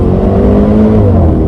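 A 2018 Range Rover Sport SVR's 5.0-litre engine accelerates with a loud, continuous deep roar that climbs gradually in pitch, filling the cabin.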